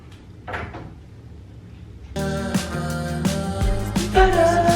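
A door opens and closes indoors in a home, a soft creak and thump, after which loud music swells in and plays on.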